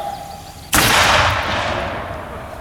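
A musket volley fired at a Culloden battle reenactment: one sudden loud blast of massed black-powder guns that booms and rolls away in a long reverberating tail outdoors.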